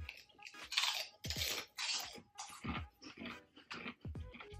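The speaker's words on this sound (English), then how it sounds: "we're gonna eat this crisp" Close, wet crunching and chewing of spicy Haunted Ghost Pepper crisps comes in a rhythmic series of bites and chews with short pauses between them.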